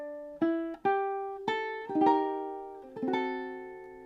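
Ukulele strumming a G-based chord measure across all four strings, one player in a beginner lesson on a song: six strummed chords in an unhurried rhythm, each ringing and fading, close and clear with no talk.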